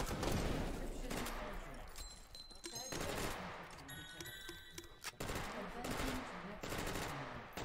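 An MGL grenade launcher fires in a video game, giving bursts of rapid, punchy shots in several volleys with short gaps, mixed with other game effects; commentators talk over it.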